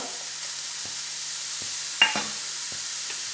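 Ginger and garlic fry in oil with chillies and curry leaves, a steady close sizzle punctuated by a few light spatula taps and scrapes as the pan is stirred.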